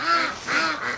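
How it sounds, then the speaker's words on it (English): Ducks quacking in three loud, close bursts that come in quick succession within a single second, with no voices over them. "Aw, ducks."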